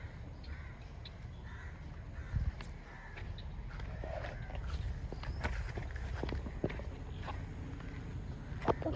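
Crows cawing near a farm with water nearby, a few scattered harsh calls rising over quiet outdoor background with light footsteps and knocks, fairly distant and soft.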